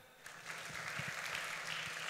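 Conference audience applauding at a church event, a steady wash of many hands clapping that swells after a brief quieter start and holds loud and even throughout.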